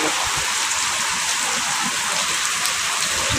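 Heavy rain pours steadily and loudly during flooding, a dense continuous hiss of drops hitting surfaces with no pause, close and alone.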